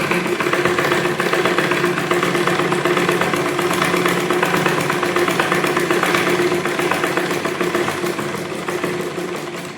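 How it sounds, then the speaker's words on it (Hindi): Sewing machine run by foot pedal, stitching steadily at close range with a continuous buzzing mechanical whir that holds for about ten seconds and eases slightly at the end. "फिर सुई की सिलाई पैडल से स्टार्ट कर देंगे।"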